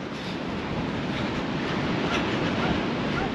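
Ocean waves breaking on a windy beach, a steady broad roar of surf mixed with gusting wind buffeting the microphone, constant and fairly loud throughout.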